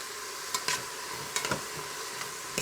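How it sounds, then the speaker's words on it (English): Sausage, onions and peppers fry steadily in a pan for jambalaya, a constant close sizzle broken by a few sharp scrapes of stirring, with no talking. "you really just want to kind of just crisp up your sausage and sweat your onions and peppers"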